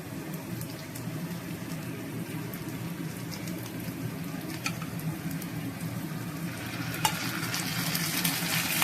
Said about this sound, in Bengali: পেঁয়াজগুলো তাহলে ভেজে নেওয়া হচ্ছে।